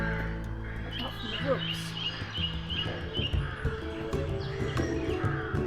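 Crows caw repeatedly in a quiet Irish graveyard, their harsh calls coming in a rough series at moderate distance over low background noise.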